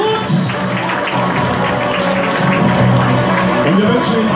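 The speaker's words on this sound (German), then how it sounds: "das ist der Applaus für Christian Walter" Crowd applause rises at the start of the 2016 Geretsried company run, a dense, steady clapping wash that holds throughout while an announcer talks over it.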